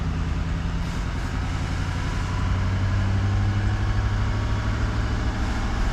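A 6.6 diesel truck engine is held at high idle and warming up after an emissions recalibration, with a loud, steady low rumble and a constant even drone that stays unbroken for the whole stretch.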